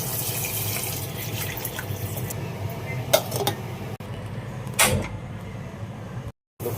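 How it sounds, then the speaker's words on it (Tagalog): Water poured into a pot to make fish soup, a continuous splashing hiss under low background noise, with a couple of brief clanks partway through and a short cut near the end. "Lagyan natin ng tubig"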